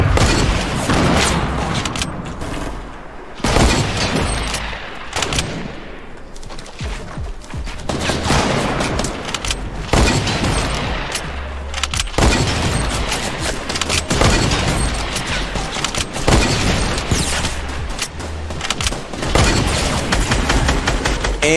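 Repeated hunting rifle shots ring out in a Fortnite esports match, loud sharp cracks in irregular bursts over continuous battle noise, with other gunfire and explosions mixed in.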